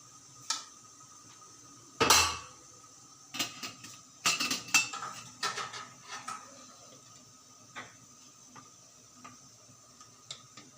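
Metal idli steamer plates and kitchen vessels clinking and clattering, a sharp loud clang early on, then a run of scattered knocks and chinks that thin out into occasional faint taps against a quiet room.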